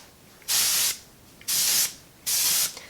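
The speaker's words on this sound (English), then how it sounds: "And I just go through and I just kind of spray my hair" A travel-size hair product spray gives three even, bright hissing bursts of about half a second each, spaced roughly a second apart, close and clear, with nothing else heard.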